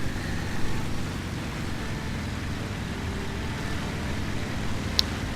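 A steady, moderately quiet drone of an aircraft engine in flight in the IL-2 Cliffs of Dover flight sim, holding an even hum with one brief click near the end.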